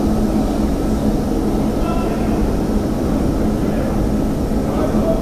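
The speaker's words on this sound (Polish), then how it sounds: "I kolejny pociąg jedzie." A Warsaw Metro M1 train rumbles steadily and loudly into a station at rush hour, a continuous heavy roar with faint squeals over it.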